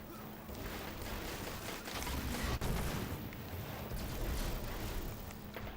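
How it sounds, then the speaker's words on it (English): A rocket launcher in Destiny fires a rocket that then drops grenades, a dense, sustained wall of blasts and rumbling explosions with a sharp crack in the middle, all heavy and constant throughout. "So it fires the rocket and then it like drops grenades afterwards"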